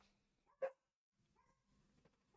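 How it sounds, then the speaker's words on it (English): Puppies give a single sharp, quiet yip, followed by a pause and then faint whimpering and soft rustling noises in an otherwise quiet room. "You're gonna wait for the puppies to stop barking"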